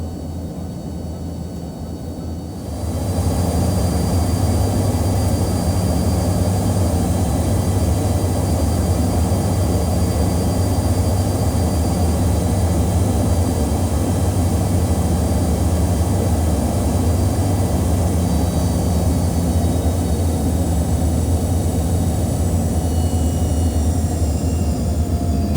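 An Eswatini Air jet airliner landing at Manzini, heard from the cabin as a loud, steady engine roar with deep rumble that swells after a quieter opening and holds throughout.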